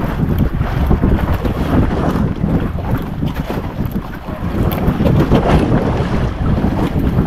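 A fishing boat engine drones steadily up close at sea, mixed with heavy wind buffeting and the wash of water, with no letup throughout.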